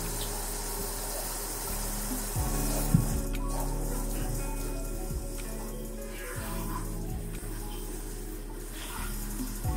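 Running water rinses product out of hair during a wash day, a continuous soft splashing flow with a low hum beneath it and faint clatters, heard without talk.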